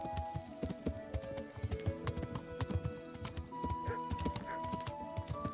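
Horse hooves clip-clop in an uneven trotting rhythm in Kingdom Come: Deliverance, with a whinny rising partway through, fairly close and moderately loud with no talk over it.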